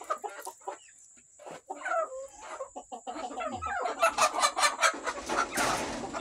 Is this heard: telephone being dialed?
no